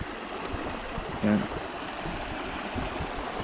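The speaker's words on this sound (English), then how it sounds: "Nice sound of the water." Water flows steadily in a woodland stream where logs have jammed together near a beaver site, a continuous low wash with a brief short word spoken over it.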